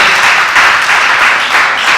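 Many hands clap at once as a church congregation applauds, a loud, sustained, even roar of clapping with slight swells, heard alone without talk.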